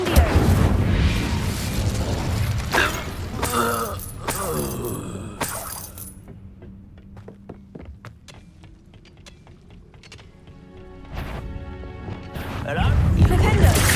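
A spell strikes in Hogwarts Legacy, with sharp mechanical crashes and shattering bursts at the start and end and quieter clicks in between. A voice can be heard near the beginning.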